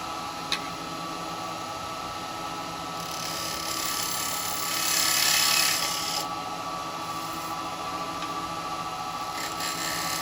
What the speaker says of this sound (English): spindle gouge comes back in just to do this front.